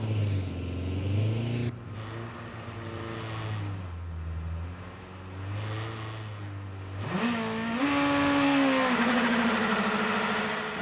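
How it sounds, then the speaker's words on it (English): A Honda Accord touring car races up the hill climb stage at the 2011 Festival of Speed, its engine roaring loudly and rising in pitch through repeated gear changes as it accelerates hard. "Stuart White comes into stage with the Honda Accord touring car"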